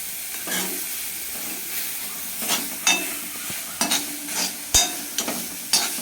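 Carrot thoran frying in a pan while being stirred, giving a continuous sizzle broken by repeated scraping and clattering strokes of the spoon, loud and close.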